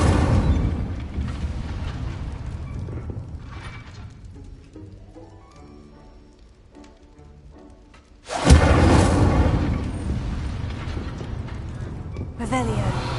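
Fire spell being cast in a video game: a loud broadband whoosh bursts in at about 8.5 seconds and roars on, after a long stretch of game rumble and a rising tone, with another surge near the end.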